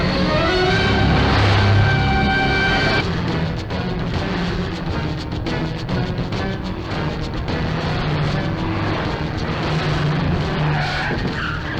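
A car tears away and skids in an action-movie chase, loud sustained tire squeal and engine roar with screeching bursts throughout, no talk.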